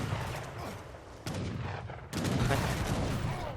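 Heavy cannon and gunfire in a battle in Age of Empires III Definitive Edition, with several booming shots and crackling volleys that swell in bursts over continuous battle noise.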